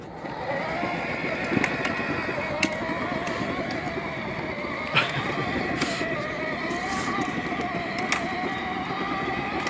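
An electric motor on a Power Wheels Dune Racer runs on a PWM speed controller and variable throttle pedal, whining up and down in pitch, with scattered clicks and knocks over a continuous close buzz.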